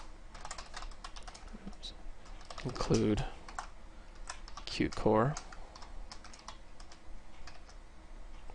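Fingers tap rapidly on a computer keyboard, producing irregular bursts of close, crisp key clicks. Someone speaks briefly over the typing.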